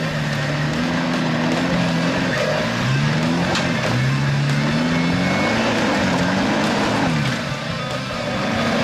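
A Holden Colorado 7 4WD engine labours up a steep off-road hill, a steady loud drone with rising and falling pitch as revs shift under load, close and continuous with no talk.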